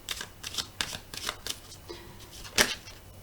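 Cards are shuffled close up in a series of quick, crisp riffling bursts with short pauses between them, ending in one louder flurry. No voice is heard.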